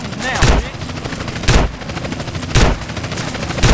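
Sustained automatic gunfire during a helicopter fight in Grand Theft Auto: San Andreas, loud and continuous with heavy booming bursts recurring about once a second, under a steady engine-like roar.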